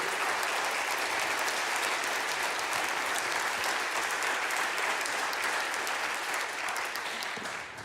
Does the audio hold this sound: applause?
yes